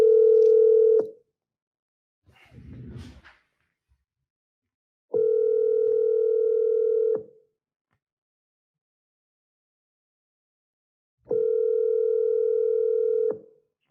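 A telephone line gives long, steady ringback tones, three evenly spaced beeps separated by silence, with a brief muffled noise between the first two.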